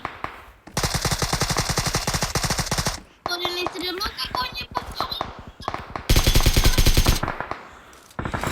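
Two long bursts of rapid automatic gunfire in the video game PUBG, loud and close, separated by a stretch of clattering game sounds and brief voices.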